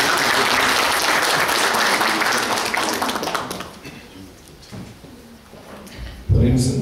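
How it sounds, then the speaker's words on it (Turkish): An audience at a medical conference talk applauds loudly in a dense, sustained burst of clapping that fades out over several seconds, followed by a few scattered claps, with a speaker's voice entering at the end. "Alkışlarla buluyoruz."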